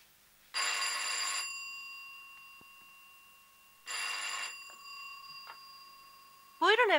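Two long bursts of a trilling electric telephone bell sound a few seconds apart, each about a second long, loud and close, with a short sharp warbling tone at the end of the ringing.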